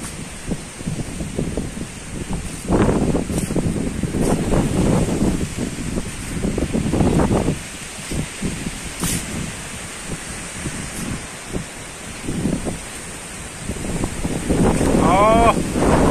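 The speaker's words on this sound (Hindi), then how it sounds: "इतना तेज हवा चल रहा है कि पूरा जो धूल है खेत का वो उड़ रहा है यहाँ पर" Strong storm wind roars across open village fields, buffeting the microphone in broad continuous gusts while dust is blown about; the blustery rush stays loud throughout with brief swells and lulls.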